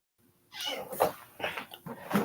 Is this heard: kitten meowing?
yes